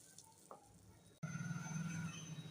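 Food dropped into hot oil while soaking matar dal is being prepared in a Bengali home kitchen, with a sharp sudden onset of steady loud sizzling that continues after a quiet moment.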